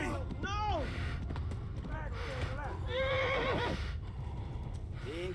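A horse in the medieval video game Kingdom Come: Deliverance gallops with steady hoof clip-clops throughout, letting out several loud whinnies and neighs over a continuous background of game noise.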